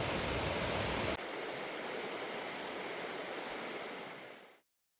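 A river in the Maine wilderness rushes in a dense, continuous roar close by, holding steady before fading out quickly at the end.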